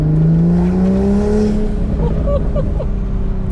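A tuned Toyota Supra accelerates hard on the road, heard loudly from inside with a strong, rising engine drone and harmonics that climb steadily, steady and continuous throughout.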